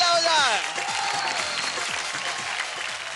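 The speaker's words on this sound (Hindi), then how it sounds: "जोरदार तालियां हो जाए." Studio audience applause at a televised Indian dance competition show, steady crowd clapping throughout with music and a voice running underneath.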